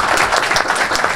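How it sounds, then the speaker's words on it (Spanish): A short, full burst of crowd applause at a pre-agreement signing for a new neighbourhood policlinic, dense and close with no voices over it. "Un aplauso para todos."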